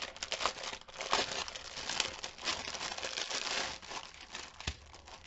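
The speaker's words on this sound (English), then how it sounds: "Crinkle alert." Packaging crinkles and rustles steadily while cupcake-themed items are unboxed, with dense crackling bursts running close and fairly loud throughout, no talking.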